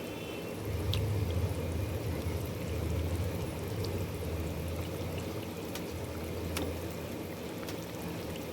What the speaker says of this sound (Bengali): এবার আমি দিয়ে দিলাম ঝোল। সাদা পাতলা ঝোল।